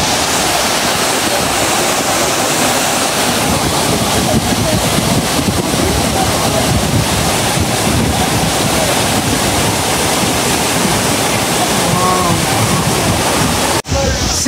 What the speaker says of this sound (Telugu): ఆ పైనుంచి వస్తుంది వాటర్.